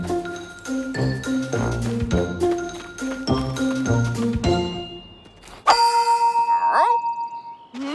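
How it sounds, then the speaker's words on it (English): Gongs struck repeatedly in a quick rhythmic series of ringing metallic hits, then one louder strike left to hum and fade with shimmering overtones. "Do you mind bonging the gongs again?"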